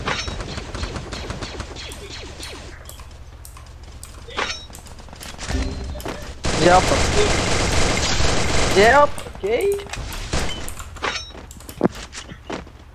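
Gunfire in a mobile battle-royale shooter game: scattered single shots and short rapid bursts, with one dense sustained stretch of fire in the middle, heard under excited player voice chat.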